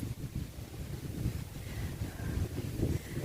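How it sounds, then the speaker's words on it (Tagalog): Strong wind on a hilltop at Batis Aramin buffets the microphone in a steady low rumble, gusting louder toward the end, with no voices. "malakas ang hangin dito sa taas"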